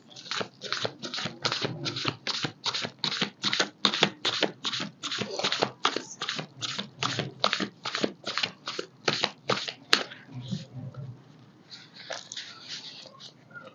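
Tarot cards are shuffled in a quick, steady run of crisp riffling bursts, close and fairly quiet, stopping near the end after a short pause.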